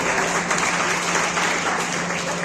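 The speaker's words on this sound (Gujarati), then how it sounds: "તાળી વધારજો ભાઈ." An audience at a community eye-camp event gives a dense, loud burst of applause that fills the moment, close and continuous with no talking.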